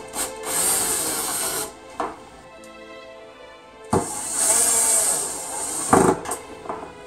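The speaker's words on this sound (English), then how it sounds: "this is where your electric drill comes into place" A power drill whirs in two long runs with a shorter burst in between, its motor buzzing over scraping and clicking sounds.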